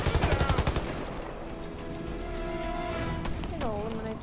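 Rapid automatic gunfire in the Warface video game, a fast loud burst at the start and then a sustained clattering din with a few sharper shots, while a voice talks over it.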